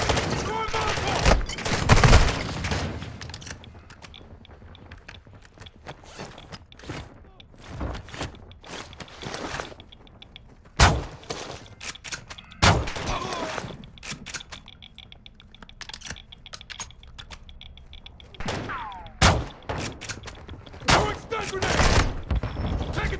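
Gunfire in Call of Duty: Modern Warfare II comes as loud, sharp bursts and rapid volleys, some close and some farther off, mixed with quick clicking and footsteps and brief in-game voice callouts.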